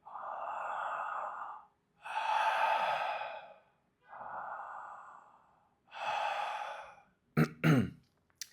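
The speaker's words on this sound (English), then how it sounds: "The sound that you're hearing is already Ujjayi breath." Ujjayi yoga breathing through a constricted throat, four long, even breaths alternating inhale and exhale with a soft oceanic rasp, close and quiet, followed by a brief throat sound at the end.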